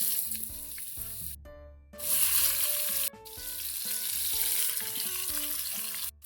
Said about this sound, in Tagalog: manggigisa na tayo. Lagay tayo ng mantika.